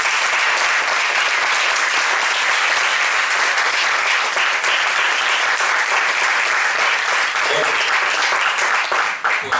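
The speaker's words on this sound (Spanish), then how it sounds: "Recibámoslo con un fuerte aplauso." A theater audience applauds to welcome a speaker onstage, a loud, dense and continuous clapping that holds steady for the whole stretch and thins slightly at the very end.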